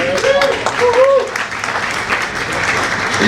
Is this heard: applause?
yes